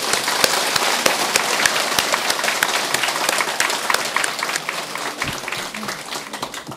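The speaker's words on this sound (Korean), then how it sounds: "스님에게 박수 한번 보내주세요" An audience at a Buddhist lecture on the Avatamsaka Sutra applauds for a monk with steady, dense clapping. It fills the whole stretch at an even level, with sharp individual claps popping out, and fades slightly toward the end.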